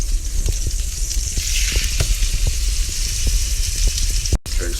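Steak searing in a hot pan, giving a continuous loud sizzle with crackling pops throughout and a brief break near the end, no voices.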